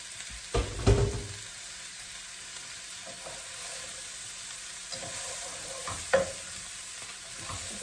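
Broccoli and beans tossed in a hot pan for a breakfast dish: soft, quiet sizzling with a few sharp stirring clatters early on and again later, close by, with no talk.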